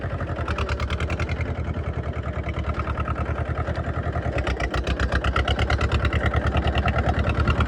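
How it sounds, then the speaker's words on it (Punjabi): A New Holland 3630 tractor's diesel engine idles steadily nearby, its rapid regular chugging pulses holding a constant rhythm throughout, with no voices. "ਆਹ ਜੋ ਸੁਣੀ ਨਾ ਟਰੈਕਟਰ ਦੀ"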